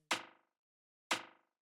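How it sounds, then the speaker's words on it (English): Two identical punchy rim shot drum hits, evenly spaced about a second apart, each with a sharp crack that decays quickly through a short, fast echo tail, with silence between them. "and then I have this little rim shot thing,"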